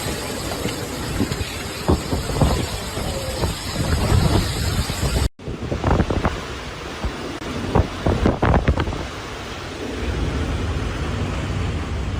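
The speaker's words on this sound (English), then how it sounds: "The combination of strong winds and towering waves made coastal areas in Guangdong extremely dangerous" Strong Typhoon Yagi winds roar across the Guangdong coast with waves crashing, a constant loud rumbling buffet that cuts out briefly midway and then resumes.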